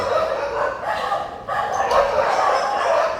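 A dog barks in a dense, continuous run of yapping near a workshop, loud and close, with short breaks between bursts.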